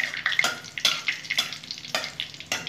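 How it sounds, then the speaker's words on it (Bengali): Dried red chillies crackle in hot oil for a tempering, giving close, sharp popping sizzles in irregular bursts over a low, steady hiss. "শুকনো লঙ্কা ফাটিয়ে দিয়ে দিলাম। ফোড়নটা করে নিচ্ছি"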